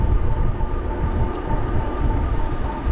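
Metrolink commuter train passing near Oceanside, a steady low rumble and rolling roar heard at moderate distance, continuous with no voices.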